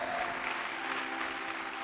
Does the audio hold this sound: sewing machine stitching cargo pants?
no